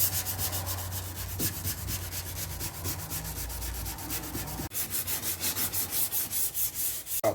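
Body filler on a Ford F-150 fender is hand-sanded with 220 grit paper in quick, repeated rubbing strokes, close and steady, pausing briefly before a faster run of strokes, with no talking.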